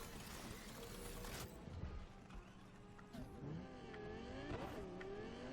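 A car pulling up in the Cyberpunk video game, its engine revving and shifting pitch with a brief tire squeal, fairly faint.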